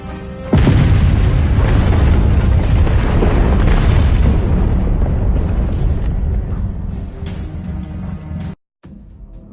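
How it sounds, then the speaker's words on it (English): A massive explosion in Beholder destroys an apartment block, bursting in with a loud booming blast that rumbles on as a dense, sustained roar of collapse before cutting off abruptly near the end. "A massive explosion destroyed the whole apartment block."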